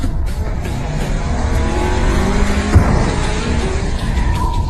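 Race cars driving hard in a Chinese drama car race, a loud continuous engine roar with rising revs, tire squeal and a brief thump partway through, close and dominant with no speech.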